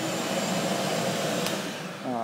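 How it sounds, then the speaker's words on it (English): A shop vac connected to a DIY Mach3 CNC control panel runs with a steady, loud whooshing roar throughout, close by and uninterrupted, with a faint click near the end. "And also the vacuum. The vacuum is right now connected to a shop vac."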